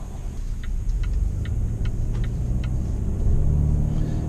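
A 2019 Volvo S60 T6 R-Design AWD, Polestar optimized, cruising on a town road, with a steady low engine and road rumble and faint ticking clicks over it.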